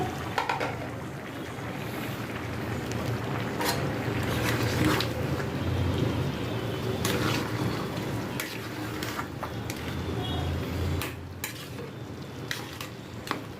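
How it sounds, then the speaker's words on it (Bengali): Chicken biryani cooks in a pot as rice and meat are stirred together, giving a continuous sizzling, frying hiss layered with scraping and stirring sounds and occasional clinks of a utensil against the pot. "এখন আমি চিকেন বিরিয়ানি রান্না করতেছি যে চাল এবং খোলার চাট আর মাংসের সাথে মিক্সড করে দিচ্ছি"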